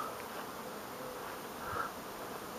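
Honey bees buzz steadily at hives set by flowering rapeseed in full bloom in spring, a dense continuous hum of many insects heard alone with no voices.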